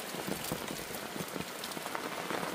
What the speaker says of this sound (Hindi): पानी वर्षा चालू हो गया